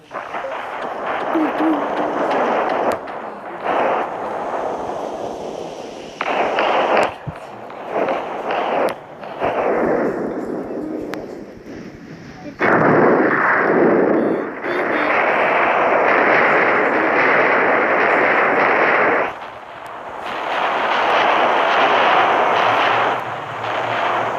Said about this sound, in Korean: 미사일 발사 이거요.